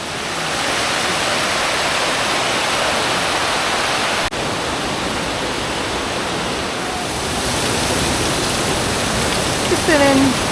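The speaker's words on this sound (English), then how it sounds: "Just been in a rain cloud." Rain falling near Tumpak Sewu waterfall in Indonesia, a dense, steady hiss of drops that holds loud and even for several seconds, with a brief faint voice near the end.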